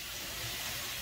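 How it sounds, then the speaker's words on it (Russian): Water poured onto hot sauna stones hisses into steam in a loud, continuous broadband rush filling the whole second, with no voice. "Вода кипит на камнях"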